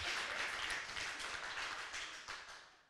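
An audience claps at a comedy show, a short, fairly quiet burst of applause that slowly fades.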